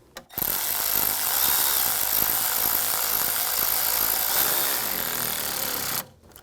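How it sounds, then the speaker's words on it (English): Continuous buzzing whir of a power tool tightening a hose clamp on a 2010-2014 Volkswagen GTI 2.0L radiator fan, steady and close for about six seconds before stopping abruptly. "Tighten the clamp down."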